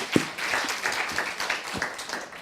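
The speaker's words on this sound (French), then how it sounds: "Oui, on peut applaudir." Audience applause at a French closing-day conference session, a dense patter of claps with a few sharper louder claps standing out, moderately near and filling the short stretch without talk.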